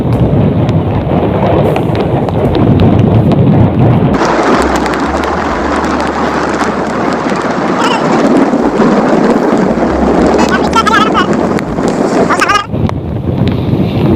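Heavy rain pours down steadily alongside rushing flood water near a bridge at the Ramling temple area in Yedshi, Dharashiv, forming a loud continuous wash with gusty wind buffeting the microphone and a few faint voices underneath.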